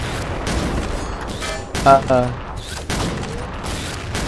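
Gunfire in the XSHOT shooter game, with sniper shots that pierce through cover, comes as sharp bursts of rapid shots at close range, punctuated by louder cracks, while a voice briefly exclaims.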